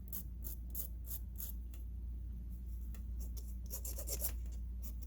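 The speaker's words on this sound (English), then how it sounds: "I'm going to use a file." A small metal file rasps across the sharp wire edges of handmade steampunk earrings, giving a series of short, quiet scraping strokes in irregular bursts over a low background hum.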